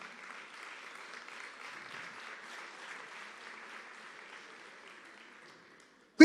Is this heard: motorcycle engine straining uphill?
no